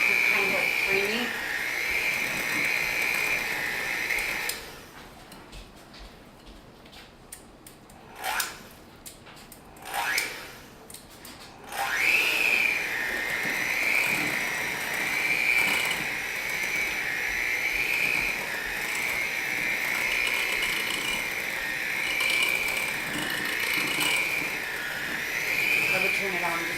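An electric mixer on low whips margarine and Crisco into pie dough with a steady, buzzing whir. The motor cuts out for several seconds while people talk nearby, then starts up again and keeps running.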